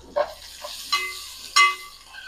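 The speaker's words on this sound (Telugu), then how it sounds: "పసుపు పక్కన పెట్టేసి మళ్ళీ ఒక్కసారి కలియబెట్టు." A spoon stirs turmeric into a buttermilk curry in a pan, making a few separate scraping strokes over a faint sizzle, close by and with no voices.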